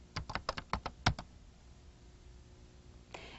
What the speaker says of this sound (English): Now we type learn